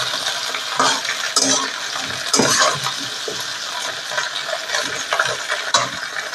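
Potatoes fry with drumsticks in a pan while a spoon stirs and scrapes, giving irregular clattering knocks over a steady sizzle, close and fairly loud, with no talking.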